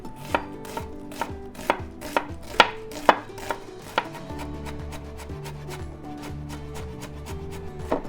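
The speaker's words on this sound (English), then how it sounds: "Meanwhile, chop half of shallot" Half a shallot is chopped with a knife on a board, sharp close knocks in a quick irregular rhythm, some louder, with no voices.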